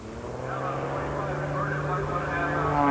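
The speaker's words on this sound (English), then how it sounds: "Linda flies a French-built CAP 231 in competition" Engine drone of a French-built CAP 231 aerobatic airplane flying at an airshow, a steady propeller hum that holds a constant pitch and swells slightly louder toward the end, with talk running over it.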